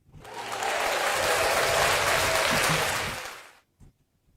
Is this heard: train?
no